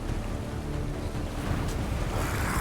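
A steady, rushing wash of a waterfall in the video game Bramble: The Mountain King, dense and continuous, rising slightly in intensity midway, with no voices.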